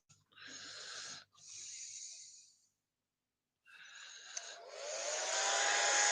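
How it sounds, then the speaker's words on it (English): A hair dryer blows in loud bursts, running, cutting off briefly, running again, then going silent before starting up once more and building to a strong steady rush. "hairdryer"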